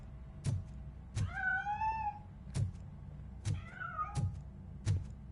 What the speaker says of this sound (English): That cat must be hiding inside.